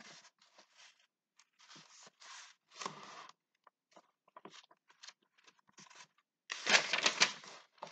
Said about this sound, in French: Alors, je vais prendre un autre livre. C'est Dalai Lama. Alors, je vais ouvrir au hasard